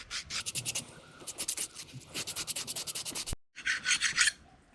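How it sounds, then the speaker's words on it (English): A hand file rasps corrosion off a thermostat housing on a 1991 Toyota Tercel, quick rhythmic scraping strokes in close bursts with one short pause before a final run of strokes. "So with a file, I'm just going to file it, get off the corrosion."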